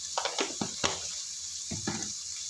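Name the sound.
pouring water into a cooking pot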